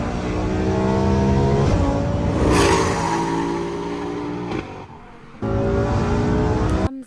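A Lamborghini accelerates hard, its engine roaring loud and close with rising harmonic whine through gear changes, a brief drop in level mid-run before the full-throttle roar returns.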